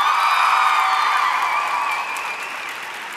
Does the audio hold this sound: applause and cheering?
yes